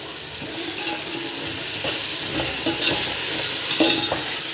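Tomato puree made from four finely chopped tomatoes sizzles and bubbles in a pan, a steady close frying hiss with occasional stirring scrapes, no voices.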